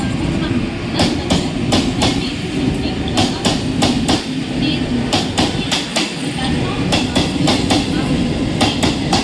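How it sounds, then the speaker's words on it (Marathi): A Mumbai fast local bound for Badlapur pulls into platform 3, its wheels beating a loud, repeated clickety-clack rhythm over a continuous rumble, with a station announcement voice heard alongside. "10 वाजून 37 मिनिटांची बदलापूरला जाणारी जलद लोकल थोड्या वेळा प्लॅटफॉर्म क्रमांक 3 पर येत आहे"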